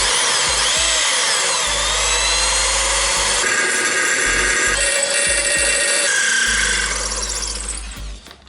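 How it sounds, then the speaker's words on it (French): Power drill boring out a rivet-like screw in a Jeep Cherokee XJ, a loud close whining motor with grinding metal bite that shifts pitch as it cuts, then winds down at the end. "je vais percer"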